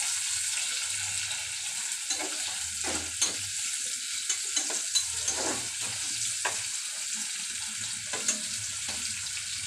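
Whole cumin seeds fry in a pan for a lentil dish with jackfruit seeds and potatoes, a steady close sizzle broken by the scrape and clatter of repeated stirring, with no voices.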